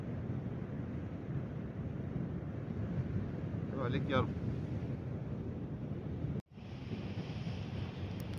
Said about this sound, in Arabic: هذا الموج اللي كاين هنا الكبره ديالها 2 متر ونص 3 متر